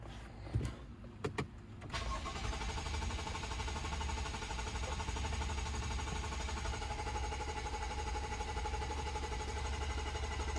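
A BMW F10 with the N55 engine cranks on the starter during an oil priming procedure. A few sharp clicks come first, then a continuous, steady mechanical whirring drone runs for about eight seconds without the engine catching. No one speaks.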